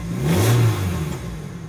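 A swapped-engine project car revs briefly from idle in cold weather, a mid-pitched engine rising and settling over under two seconds, fairly close.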